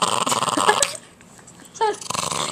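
Patterdale terrier growling, several rough, rumbling bursts close up with a brief pause in the middle, mixed with scuffling and a small whimpering yip.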